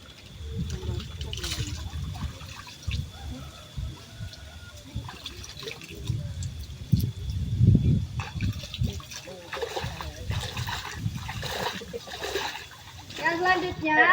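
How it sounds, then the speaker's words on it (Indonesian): River water splashes repeatedly as students demonstrate wudu ablution at a riverbank during a school performance, an uneven run of scoops and pours under background noise. "kelompok Sunan Kalijaga yang akan mendemonstrasikan tentang bagaimana caranya berwudu di sungai"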